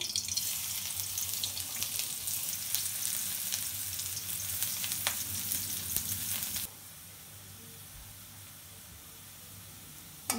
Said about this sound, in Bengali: আর দিয়ে দিলাম এই যে পেঁয়াজ কুচি